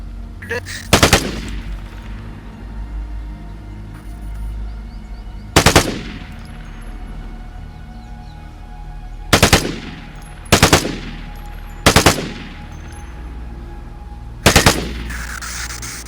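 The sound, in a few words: machine gun fire in the video game Vigor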